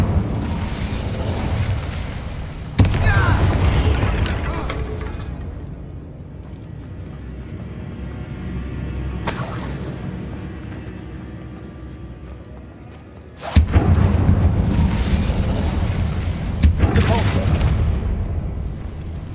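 Incendio fire spell blasts in the wizarding video game Hogwarts Legacy: loud booming bursts at the start and again after a quiet stretch, with rumbling fiery noise and game sounds between them.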